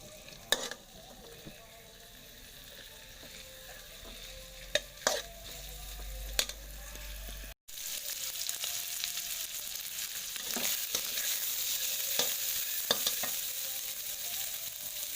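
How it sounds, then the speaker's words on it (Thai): Minced pork sizzles and crackles steadily in hot oil in a pan, with occasional sharp clinks and scrapes of a utensil stirring it. "เราก็ตั้งกระทะแล้วก็ใส่หมูสับลงไปนะคะ ผัด กับน้ำมัน ให้หอมเลยค่ะ"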